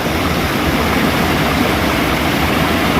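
Steady, full-bodied roar of a waterfall in a remote natural valley near Ciawi, Bogor, heard close and continuous for three seconds with no voices.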